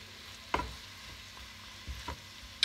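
Tchakchouka, a pepper and tomato stew, is stirred in a frying pan, giving three or four short scraping strokes at a steady pace over a faint sizzle, with no one talking.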